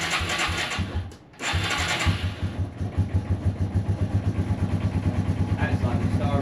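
A Yamaha TW200 motorcycle engine runs with the choke out, sputtering briefly, cutting out, then catching and settling into a steady, close, thumping idle while people talk over it.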